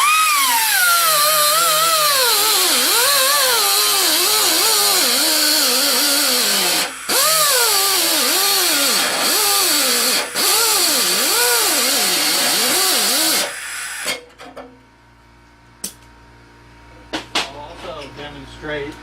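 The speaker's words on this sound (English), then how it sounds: "I'll demonstrate just a simple cut-off wheel." Cut-off wheel grinding through spot welds on sheet metal, a loud whining screech that rises and falls in pitch for about thirteen seconds, then stops, leaving quiet clinks.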